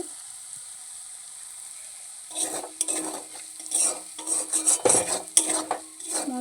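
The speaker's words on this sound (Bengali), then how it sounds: "মশলাটা ভালো করে কষানো হয়ে গেছে" Spice paste is stir-fried in oil for a Bombay duck fish curry: quiet at first, then close, repeated scraping and clinking of a spoon against the pan over a light sizzle.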